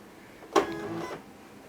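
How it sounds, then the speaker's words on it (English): A Silhouette Cameo cutting machine powers on with a short mechanical whir and hum that rises sharply, then fades over about a second, close and alone in a quiet room. "you're going to hit the power button on your Cameo and let the machine turn on"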